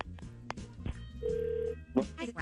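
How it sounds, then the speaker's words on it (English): A telephone rings faintly while a radio call is being placed, the single electronic ring tone sounding once amid soft, scattered studio noises. "Let's make the phone call on War of the Roses."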